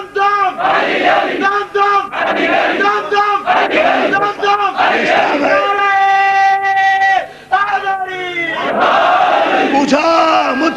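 Crowd at a majlis, a religious gathering, shouting slogans in loud, rhythmic unison, with sustained chanted phrases and swelling group voices throughout.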